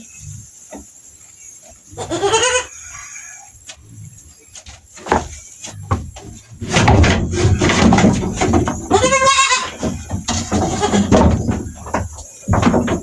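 Young goat kid about one month old bleating repeatedly during an iron injection in the neck, loud, wavering cries up close, with handling noises and brief rustling between calls.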